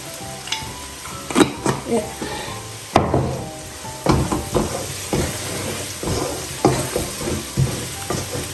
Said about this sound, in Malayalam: നന്നായിട്ട് അടിയിൽ പിടിക്കാതെ ഇളക്കി കൊടുക്കണം